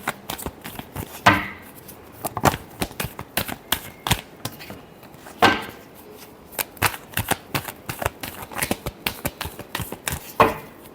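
Tarot cards are shuffled by hand up close, giving a run of quick papery slaps and riffles in an irregular rhythm, with louder bursts now and then and no speech.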